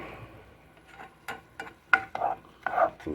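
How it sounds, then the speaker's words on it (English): A spoon stirs tomato sauce boiling into a barbecue sauce in a pot, scraping and clinking in irregular strokes that grow louder toward the end, close and alone without talk. "I'm going to stir these around."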